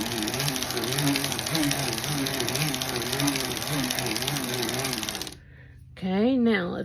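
A circular sock machine knits waste yarn with a loud, close mechanical whir and rhythmic clatter for about five seconds, then stops, and a voice speaks briefly.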